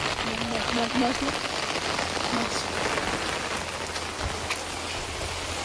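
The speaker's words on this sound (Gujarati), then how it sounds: "બહુ ખતરનાક વરસાદ પડે છે અત્યારે" Heavy rain pours down steadily, a dense hiss of drops striking surfaces, with brief faint voices underneath.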